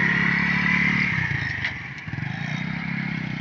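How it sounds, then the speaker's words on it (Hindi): A motorcycle ridden off by a learner: steady close engine drone with a rattling, pulsing idle-like rhythm, the pitch shifting slightly as it pulls away, no talk. "ये बाइक भगा ले गए हैं"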